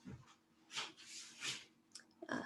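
A young dog moving about in the background indoors, faint snuffling, panting bursts and scuffling knocks in irregular spurts.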